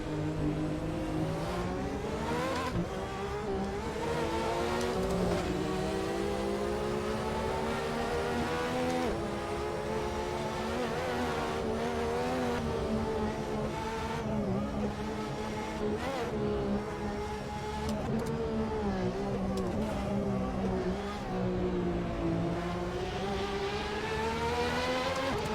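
Roaring GT1 race car engine in Assetto Corsa echoing through a tunnel, a steady loud continuous drone with shifting pitch as it accelerates, no talk.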